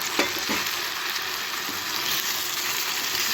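Chopped tomatoes sautéing in a pan for tomato chutney, a steady bright sizzle with a few scraping stirs near the start, close and continuous without any talk.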